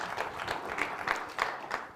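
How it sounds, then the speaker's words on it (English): Applause from an audience at a Central State University Giving Tuesday event, a dense steady patter of clapping with faint swells, moderately loud and unbroken for the whole stretch. "Let's give him a round of applause for all he's done in hosting this tonight."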